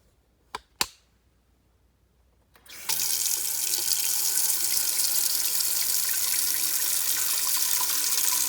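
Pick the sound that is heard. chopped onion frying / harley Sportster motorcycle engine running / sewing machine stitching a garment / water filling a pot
water filling a pot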